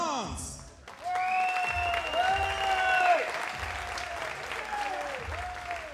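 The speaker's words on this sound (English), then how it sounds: "A big applause for Serge Sprock, France." Sustained audience applause for a jury member at the final of a 10 m prone rifle SH2 para-shooting event, steady and moderately loud, mixed with a tonal electronic sound and a voice over it.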